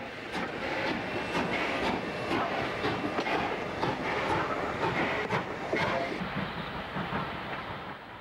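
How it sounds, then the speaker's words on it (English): A steam locomotive of the New South Wales 5901 class, the class leader, is hauling a freight train. It makes a loud, steady rumble with rhythmic clickety-clack wheel beats throughout and no talking. "Class leader 5901, well in her stride on a freight turn."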